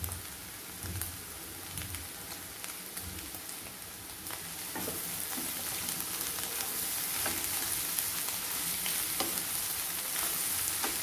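A carrot and egg fry sizzles in a pan while being stirred, a steady crackling hiss with scattered scraping clicks that grows slightly louder halfway through, close by and without talking.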